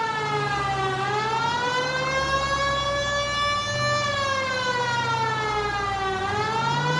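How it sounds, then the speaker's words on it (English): A police car siren from the LA Noire video game wails loud and steady, its rising and falling tone sweeping slowly in long cycles with no talk over it. "Turn on the siren and pull her over."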